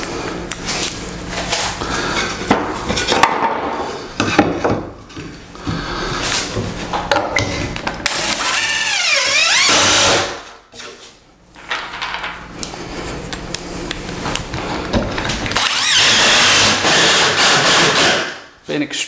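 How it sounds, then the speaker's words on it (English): A DeWalt Max XR cordless drill drives screws into small cut pieces during a master shower remodel, its motor whirring loudly in long bursts with rising and falling pitch and brief pauses between screws. "you watched me put 60 screws in"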